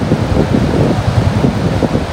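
Wind roars over a beach in Agno, Pangasinan, buffeting the microphone while big ocean waves surge and rumble continuously, loud and close, with no talk.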